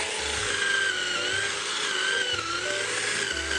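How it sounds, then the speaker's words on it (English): A powered hedge trimmer cuts through bushes with a steady motor whine and slightly wavering pitch, holding at a constant loud level throughout with low thumps beneath. "So sorry about all the trimming bushes."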